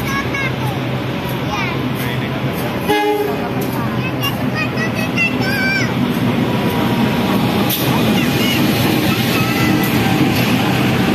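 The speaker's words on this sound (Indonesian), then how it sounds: "Mari kita nantikan kereta api Probowangi dari stasiun Surabaya Gubeng tujuan akhir stasiun Ketapang." Probowangi passenger train from Surabaya Gubeng bound for Ketapang passing through Waru station, a loud steady rumble of rail cars with a brief horn toot near the start, under a station announcement voice.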